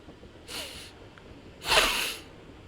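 A human voice imitates a sniff, giving two short breathy nasal bursts about a second apart, the second louder and longer, heard close in a quiet setting.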